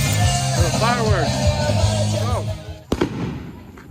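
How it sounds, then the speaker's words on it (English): Fourth of July fireworks at a backyard barbecue: several whistling shells rise and fall in pitch, then one sharp, close bang near the end, with people talking throughout. "that's like the best fireworks I've ever seen in my life, Joe"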